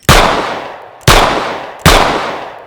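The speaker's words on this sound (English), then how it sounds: "Let's ring some steel, Sig P365." Three sharp, loud Sig P365 pistol shots spaced under a second apart, each with a bright metallic ring and ringing decay as the bullets strike steel targets outdoors.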